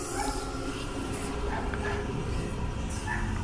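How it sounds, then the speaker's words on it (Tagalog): A puppy in an abandoned military bar gives faint yips and whimpers over steady low background rumble and hiss. "There's a puppy."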